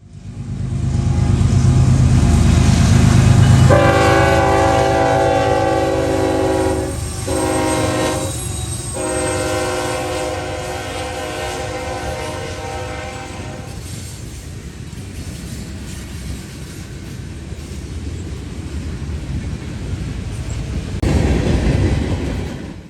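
Norfolk Southern freight train 179, led by a GE ES44AC and a BNSF ET44C4, speeds through London on the NS Dayton District. The locomotives' horn blows loudly in two long sustained blasts over a steady, close roar of engines and rolling cars.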